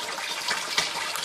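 Water in an aquaponics sump tank churns and splashes steadily as a pump circulates it, a continuous close rushing wash with no talking.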